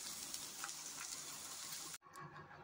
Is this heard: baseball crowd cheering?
no